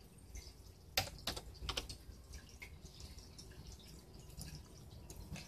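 Quiet keyboard typing at a computer while making a birthday invitation in Photoshop Elements 11, with irregular soft key taps, a few sharper clicks and no talking.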